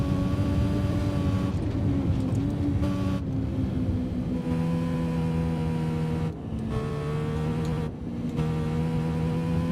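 A motorcycle engine in the TT Isle of Man racing video game hums steadily at a high pitch, with brief gaps and the pitch stepping down as it downshifts, and no talk over it.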